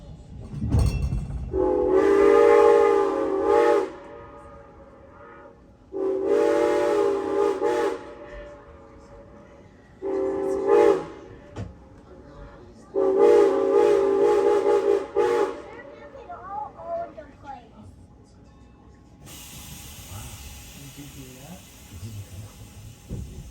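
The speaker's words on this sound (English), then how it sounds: "The ghost of that little locomotive makes its presence known by blowing back with its own whistle" A narrow gauge steam locomotive whistle blows three long, loud tones with pauses between, each echoing afterward, followed by quieter outdoor ambience.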